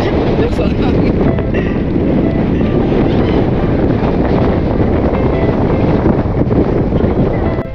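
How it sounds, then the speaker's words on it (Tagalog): Strong wind roars and buffets the microphone continuously, loud and steady throughout with no letup. "Mahangin."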